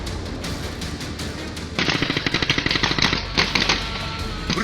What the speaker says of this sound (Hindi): देखिए बीच सड़क पर मोर्चा संभालकर ये सैनिक गोलियों की तड़तड़ाहट के साथ आगे बढ़ रहे हैं।